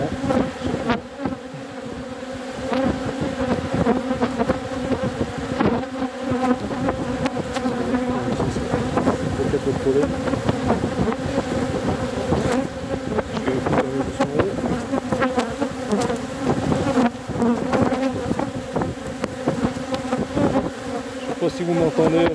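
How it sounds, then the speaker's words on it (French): A dense swarm of bees buzzes loudly and continuously close by, individual insects droning past in shifting waves. "Si vous m'entendez avec le vacarme des abeilles."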